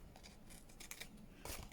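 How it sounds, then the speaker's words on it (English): Small scissors snip paper while an envelope folio journal is being made, quiet close cuts in a short burst near the end after softer rustling. "Let me just get those tiny scissors."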